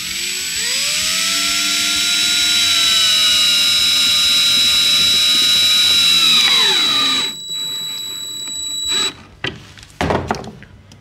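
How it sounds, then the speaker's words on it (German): A power screwdriver drives a screw into a Fischer DuoLine two-component wall plug with a loud, sustained high whine that winds down after about seven seconds, then a few short bursts and clicks follow, close up and alone. "dann können wir schon die Schraube eindrehen."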